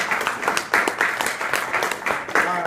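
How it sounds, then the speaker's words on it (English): Steady applause fills a middle school boys basketball B-team award ceremony, with dense, mid-distance clapping and some voices mixed into the crowd noise. "Round of applause for Jesse."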